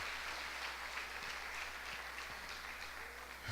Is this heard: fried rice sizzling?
no